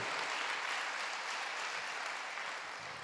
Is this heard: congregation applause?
yes